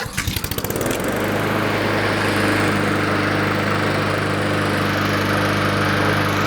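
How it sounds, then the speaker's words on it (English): A Honda 21-inch walk-behind self-propelled lawn mower engine sputters with a few rapid pulls and then catches, settling into a loud, steady close-up running drone. "let's see if we start it back up"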